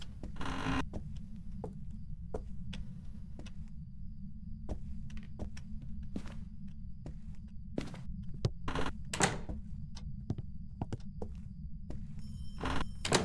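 Door thunks and creaks inside a haunted house in the horror game Phasmophobia, several sharp knocks and bumps scattered over a steady low hum.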